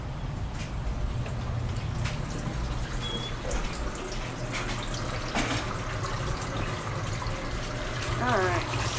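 Tap water runs steadily as a tie-dye shirt dyed blue and lavender in a bullseye pattern is rinsed, with splashing and dripping from the handling and a brief voice near the end.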